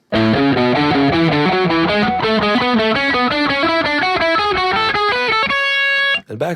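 A distorted electric guitar plays a fast, steady run of picked notes that skip around the pattern, then ends on a ringing chord.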